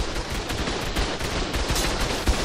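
Rapid, dense gunfire crackles continuously in the video game ARK Survival Ascended, a loud burst of overlapping shots during a Scorched Earth raid.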